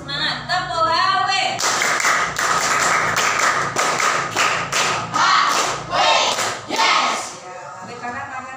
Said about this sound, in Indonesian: Kurang semangat, tepuk HW